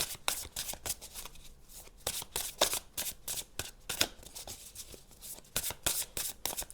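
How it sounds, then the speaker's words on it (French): Tarot cards being shuffled by hand, a steady run of crisp riffling and slapping bursts repeating throughout, close and fairly quiet with no talking. "on va tirer d'autres cartes pour vous"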